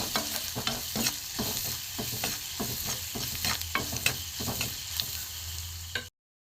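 Garlic, onion and spices fry in a pan for egg-stuffed paratha filling, a steady sizzle broken by repeated rhythmic scrapes of a spatula stirring, close and alone, then an abrupt cutoff.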